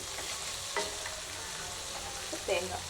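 Tomatoes for a spicy peanut chutney sauté in a pan, with a constant close sizzle and two brief scrapes of a spatula stirring them. No one speaks.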